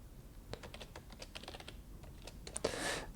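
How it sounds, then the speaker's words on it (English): Someone typing on a computer keyboard, a quiet run of irregular key clicks ending in a short burst of noise, with no talking. "Hopefully he's typing."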